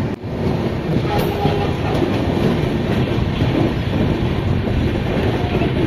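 A train on the Mumbai to Mahad route runs steadily after rain, a loud continuous rumble of wheels and carriages heard from on board.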